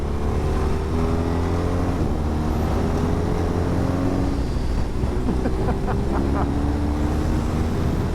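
A BMW HP2 Sport motorcycle with a quick shifter rides a twisty road, its engine droning steadily and loudly throughout with rising and falling revs as it shifts through gears.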